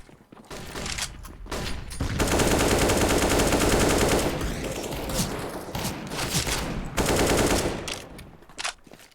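Video game gunfire rattles in long, loud automatic bursts with brief single shots and pauses between them, dense and close, with no clear talk.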